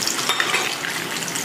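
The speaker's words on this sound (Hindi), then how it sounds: "अब यहाँ पे मैं इसको 2 मिनट तक अच्छे से फ्राई कर लूंगी।" Cut taro root (arbi) sizzles steadily in hot oil in a pan, a dense, even crackle that holds at one level with no talking over it.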